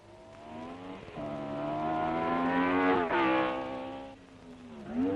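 1962 Formula 1 race cars at the French Grand Prix roar loudly past the pits, their engines climbing in pitch as they accelerate, with one car after another sweeping by and dropping away.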